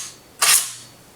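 The fake bolt of a CYMA M14 airsoft electric rifle is pulled back once, a single short, sharp metallic clack close up against a quiet background.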